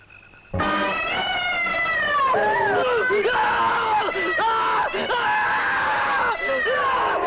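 A loud scream from a 1988 Hindi horror film bursts in after a moment of near-quiet, then goes on as a string of shrill, wavering cries and shouts from several agitated voices.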